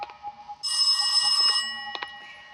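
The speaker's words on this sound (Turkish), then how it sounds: "Telefon çalıyor." A phone rings inside a horror video game set in a foggy hospital, a bright bell-like trill that holds for about a second, fairly loud against faint game ambience and a few short knocks.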